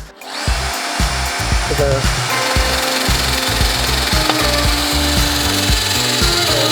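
A Bosch GKS 12V cordless circular saw whines loudly and steadily as it cuts through wood, with a constant grinding rasp from start to finish.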